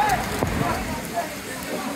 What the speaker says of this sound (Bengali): প্রচুর বৃষ্টি হচ্ছে এখন হযরতপুর হাটে,